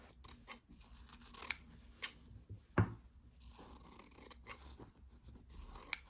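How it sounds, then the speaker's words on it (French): Scissors cut embroidery motifs out of fabric, close and quiet, with a series of crisp snips and rustling as the cloth is handled, and one sharper clack near the middle. "Pour commencer, ce que je vais faire, c'est que je vais découper les motifs."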